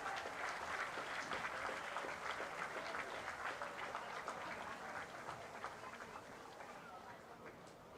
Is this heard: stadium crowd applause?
yes